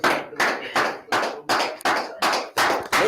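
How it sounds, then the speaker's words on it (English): An audience claps for a speaker arriving at a realtors' training event, heard as about nine strong, evenly spaced bursts of applause close by. "Don't stop clapping until she gets here."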